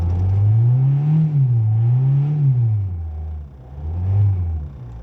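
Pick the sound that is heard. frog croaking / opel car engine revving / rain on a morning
opel car engine revving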